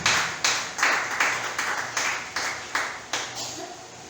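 A church congregation claps in rhythm to acclaim the king of glory, about a dozen loud, evenly spaced claps in a steady beat with a murmur of voices underneath.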